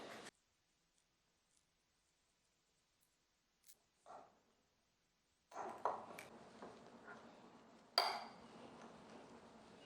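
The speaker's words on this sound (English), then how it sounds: "pop them straight into my bowl and mash them with a fork" Peeled homegrown bananas mashed with a fork in a bowl: near silence at first, then soft squelching scrapes and light metallic clicks of fork against bowl, with one sharper clink partway through.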